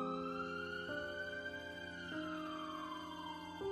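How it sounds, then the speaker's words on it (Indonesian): A wailing siren rises and falls steadily, sounding somewhat distant and muffled, with no voices. "terdengar suara mobil ambulan dari kejauhan"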